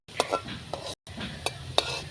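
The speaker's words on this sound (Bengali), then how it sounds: "তো আমি কম তেলে আস্তে করে সবগুলোকে ভেজে নেবো।" Kotkoti snacks frying slowly in a little oil, a soft sizzle under a few sharp clinks and scrapes of a utensil against the pan, briefly cut off midway, close with no voices.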